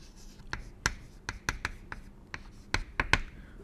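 A pen or marker writes by hand on a board or paper during a math lesson, producing sharp, close, irregular taps and short scratchy strokes with brief quiet gaps.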